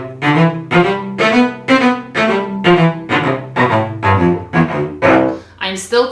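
A rapid instrumental passage practiced in a short-long rhythm, each long note still clipped staccato, giving a steady series of crisp, evenly spaced pitched attacks played alone and fairly loud.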